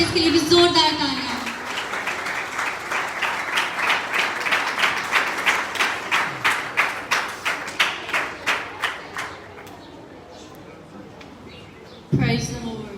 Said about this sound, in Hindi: आप सबकी जोरदार तालियों में